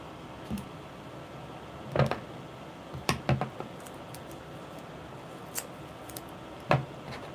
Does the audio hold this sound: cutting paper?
yes